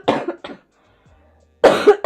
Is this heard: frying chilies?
no